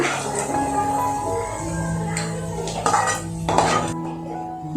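Roasted cashews, almonds and raisins being scooped from a pan into a bowl while making rava laddu, heard as close metallic clinks and scrapes of a spoon against cookware, with a few sharper knocks near the end.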